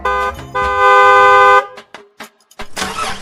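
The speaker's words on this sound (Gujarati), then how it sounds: "સેલ્ફ મારું તો હોરન વાગે ને હોરન મારું તો સેલ્ફ વાગે" Horn of a modified Hero Splendor motorcycle, loud and close: a short toot followed by one long steady blast, then a few clicks and a burst of rough noise.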